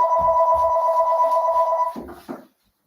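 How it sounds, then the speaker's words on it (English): A telephone ringing during a live yoga class, a loud, steady electronic ring tone holding for about two seconds before it cuts off, followed by a couple of brief knocks. "Great reminder that we got to turn off the phone."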